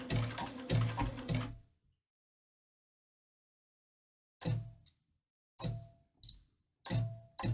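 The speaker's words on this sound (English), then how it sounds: "My sewing machine is doing something weird." A Simplicity sewing machine whirs in a short stuttering run, goes silent, then gives several separate clunky mechanical bursts at uneven intervals.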